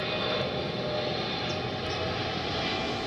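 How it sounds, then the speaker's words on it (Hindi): A passenger airplane passes low overhead near Indira Gandhi International Airport, a loud steady roar filling the whole moment with no voices. "इंदिरा गांधी इंटरनेशनल एयरपोर्ट से टेक ऑफ करने वाले या वहां लैंड करने वाले विमान हर 3 से 5 मिनट में यहां से उड़ान भरते हुए गुजरते हैं"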